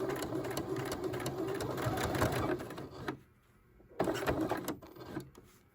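A sewing machine runs back stitches on a fabric face mask, a rapid mechanical whirring in two bursts with a brief pause between them, fairly close and without talk.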